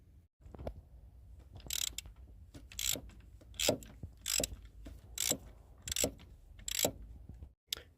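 A ratchet clicks in short, quick bursts while loosening bolts on the PCV valve and oil separator of a first-generation Audi Q5 2.0T. The bursts are close and fairly quiet, separated by brief pauses, with no talking.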